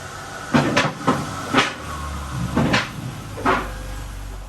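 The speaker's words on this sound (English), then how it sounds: "Now I'm gonna demonstrate with a couple of different cars on the lift and see how it goes up." Triumph NSS-8XLT four-post 8,000-lb parking lift raising a car: a series of heavy clunks at uneven intervals with a low mechanical drone and hiss underneath, close and fairly loud.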